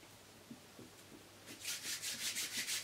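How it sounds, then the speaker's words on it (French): Soft locs hair extensions are rubbed briskly between the hands to seal them, making a rhythmic, close, soft rasping that begins after a few quiet taps and repeats in quick strokes. "Et je frotte pour bien sceller le tout."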